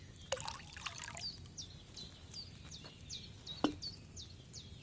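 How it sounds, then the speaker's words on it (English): Wine poured into a cauldron in Kingdom Come Deliverance 2, a soft liquid trickle and splash over quiet ambience with chirping birds repeating in the background. "So, what did you pour in there? Wine, of course."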